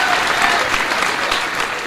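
Audience applause at a Hindi poetry recital by poet Ashok Charan: a dense, steady wash of clapping from a large crowd, continuous and fairly loud throughout.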